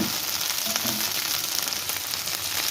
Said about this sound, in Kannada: ಸ್ವಲ್ಪ ಎಣ್ಣೆ ಹಾಕ್ಬಿಟ್ಟು ಫ್ರೈ ಮಾಡೋಕ್ಕೆ ಇಟ್ಟಿದ್ದೀನಿ